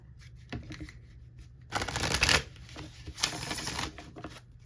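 Tarot cards shuffled close up: a soft tap, then two longer riffling bursts of papery flutter, with quieter shuffling between them and no talking.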